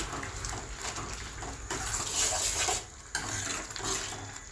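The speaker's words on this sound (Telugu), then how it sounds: "ఇందులోకి చిటికెడు పసుపు, తగినంత ఉప్పు కూడా వేసి బాగా కలుపుకోవాలి." Rice with a pinch of turmeric and salt stirred in a pot for pulagam prasadam, a steady close scraping and mixing with a faint sizzle underneath, with two brief pauses in the stirring.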